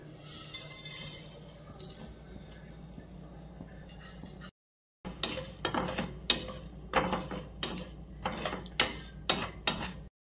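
Whole coriander seeds, fennel, a piece of cinnamon, a clove and a cardamom pod dry-roast in a pan, stirred with scraping, rattling strokes that come in quick rhythmic bursts after a brief silence, close up with no voices.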